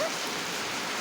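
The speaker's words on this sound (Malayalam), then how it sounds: "കാറ്റും മഴയും." Heavy wind-driven rain, a dense, steady hiss that stays loud and unbroken for about a second with no voices.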